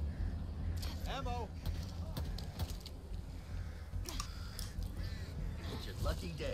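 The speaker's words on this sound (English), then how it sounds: "So many birds. So many birds." Crows cawing repeatedly in the video game Back 4 Blood, several harsh caws layered over a constant game ambience, with quiet keyboard clicks underneath.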